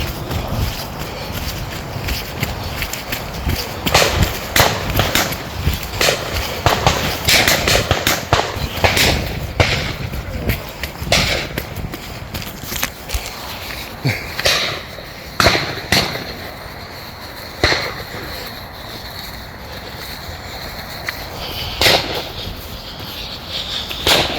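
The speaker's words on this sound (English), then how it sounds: "I can hear shooting." Repeated sharp rifle gunshot cracks from a nearby rifle club at irregular intervals, some loud and others more distant, over outdoor ambience along a canal trail between Latchford Locks and Lymm.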